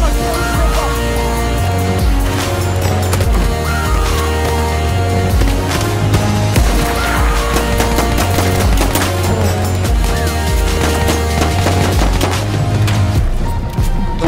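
Pistol gunfire from the Battlefield 1 video game crackles in rapid repeated shots over loud, dense game music and ambience, the sharp cracks scattered throughout.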